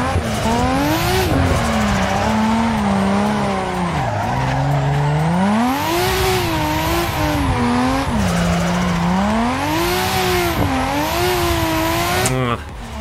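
A car drifts in the Assetto Corsa driving simulator, its engine held at steady high revs that rise and fall in long sweeps while tires squeal continuously for the whole stretch, loud and close.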